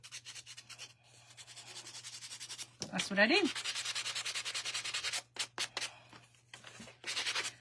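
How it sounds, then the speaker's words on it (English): Quick, raspy back-and-forth rubbing of a nail file in short bursts, with a brief spoken remark between strokes. "when in tight places, and I want to do a little sanding"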